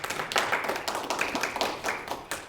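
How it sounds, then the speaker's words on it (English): Live audience at a Berkeley Heights, NJ mayors' roundtable event applauding, a steady close patter of many hands clapping throughout with uneven bursts. "I wish everybody would give themselves a hand"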